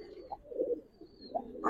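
A Giribaz pigeon gives soft, low coos in short repeated phrases, faint and close with quiet room background and no talking.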